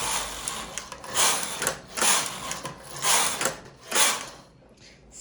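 A domestic knitting machine with weights hung on the needles runs its carriage across the bed in repeated rhythmic mechanical sweeps, each pass a loud rattling whir, with no talking.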